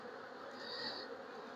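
Drone honeybees hum inside an open hive while brood frames are inspected, a continuous dense buzz heard up close at an even level with no voices.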